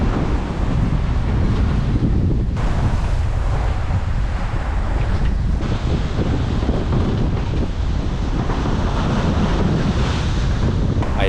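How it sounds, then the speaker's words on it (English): Loud, continuous rush of sea water surging and splashing through the floor of a sailboat making 8 knots, mixed with heavy wind buffeting the microphone, with no pauses. "I attempted to capture the water splashing through the floor."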